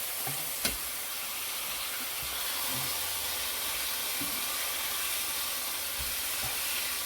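Steady frying sizzle and hiss from an egg roll cooking in a pan, with a single sharp tap near the start and a few soft scrapes as it is turned, no talking.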